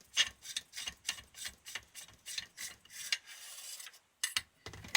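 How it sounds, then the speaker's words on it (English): The air cylinder of an Air Arms S200 air rifle is unscrewed by hand, giving a close series of short metallic rasping, ratchet-like turns in a steady rhythm with brief pauses. "the air cylinder should just unscrew"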